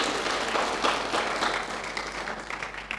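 A church congregation claps together in a sustained wash of applause that slowly fades, heard from a moderate distance with no clear speech over it.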